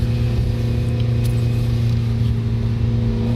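Lancer Evo X engine held at steady high revs at a race start, a loud continuous drone with strong low harmonics that doesn't climb in pitch, close up with no talk.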